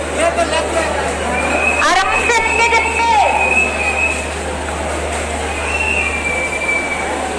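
A crowded railway station in Puri hums with constant chatter and movement while the Puri–Howrah Superfast Express's wheels screech and squeal briefly, then the steady rumble continues.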